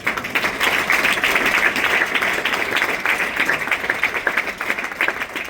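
Loud, sustained applause from the audience at an annual company event in the UK and Ireland, a dense continuous patter of many hands that holds steady from start to finish.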